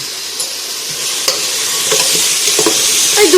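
Niramis khichuri ingredients with grated ginger sizzle loudly in a pan while a spoon stirs them, scraping taps falling irregularly over the continuous frying hiss.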